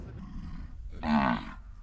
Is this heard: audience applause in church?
no